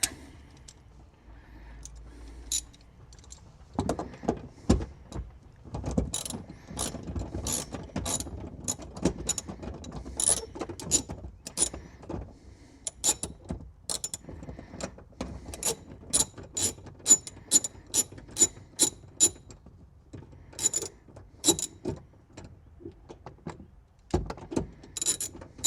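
A hand ratchet backs out a 10mm bolt from a sixth-generation vehicle's interior rear side panel, with quick repeated clicking bursts and short pauses, close and clear, plus a few metallic handling sounds.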